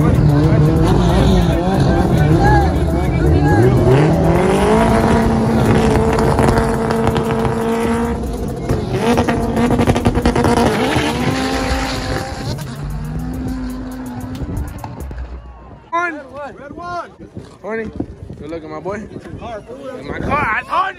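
A red race car drives past with a loud, rising and falling engine roar and tire noise, close and dominant, then fades as the car moves away, leaving quieter background sounds and someone talking.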